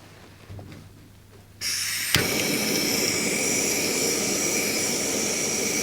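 A loud, steady roaring hiss starts abruptly and keeps going, a Primus Lite portable gas camping stove burning at full flame close by.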